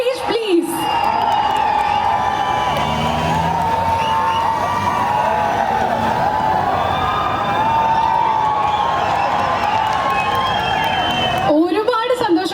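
A large mall crowd at a film promotion event in Trivandrum cheers, whoops and claps steadily and loudly to welcome actor Jojo George onto the stage, a continuous roar with shrill shouts riding on top.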